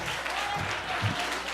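A church congregation applauds during a Portuguese-language sermon, a dense, continuous wash of many hands clapping, moderately distant and fairly quiet, with a faint voice underneath.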